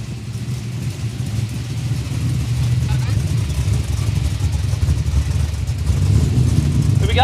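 Drag cars roar off the line in a no-prep quick street race on an airstrip, an orange one-tonner against a white VK Calais, with a steady loud engine rumble that swells near the end.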